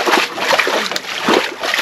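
Water splashes and sloshes as it is drained from a fish container at a house in the Philippines, with several bursts of noisy splatter close by over less than two seconds.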